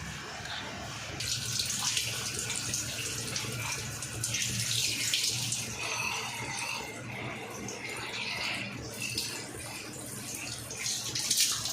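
Tap water runs steadily, splashing as goat meat is rinsed and handled under the stream, continuous and close throughout.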